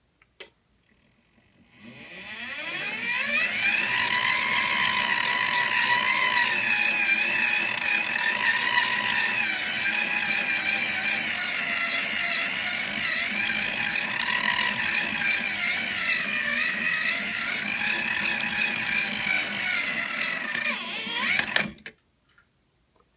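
A servo-controlled Reel-EZ hose reel winds in its hose with a steady, loud whirring and ratcheting mechanical drone that runs for about twenty seconds before stopping abruptly.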